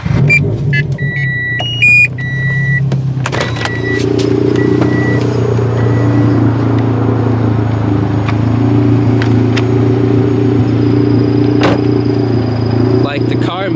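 A tuned turbocharged Scion FR-S running E85 idles on a dyno, a steady low engine drone with a brief electronic beep near the start and faint shop noise around it.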